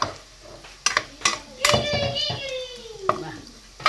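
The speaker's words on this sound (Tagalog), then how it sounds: "Lagyan natin yung gulay" Vegetables tossed into a frying pan over browned meat and stirred, with several metallic clanks of utensil against pan and a light sizzle, while a person talks over it.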